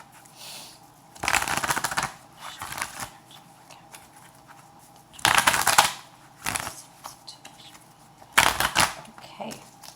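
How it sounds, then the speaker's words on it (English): Tarot cards are shuffled in three quick riffling bursts, crisp and close, separated by quiet pauses with small taps and handling noises. "And I'm going to give it a few more shuffles."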